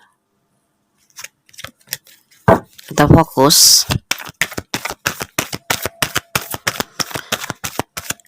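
Tarot cards are shuffled and spread in quick, crisp snapping flicks, close and loud in a rapid irregular run, with a short spoken phrase and some breathy handling noise near the start.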